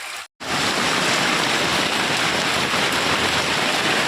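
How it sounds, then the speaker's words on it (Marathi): Heavy rain pours down over the town of Otur in a dense, steady roar, continuing without letup after a brief silent gap at the start. "उत्तूर शहरामध्ये मुसळधार पावसाचे आगमन झालेले आहे"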